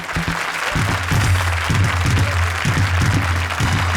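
Studio audience applause on a Hindi TV comedy show stage, a steady loud wash of clapping lasting throughout, with a low musical or crowd hum underneath.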